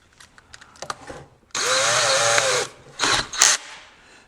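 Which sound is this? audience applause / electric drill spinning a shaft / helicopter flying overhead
electric drill spinning a shaft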